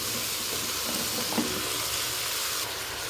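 Cut bottle gourd pieces tipped into hot oil left from frying shrimp give a steady, close sizzle with a brief splash as they land, no voices.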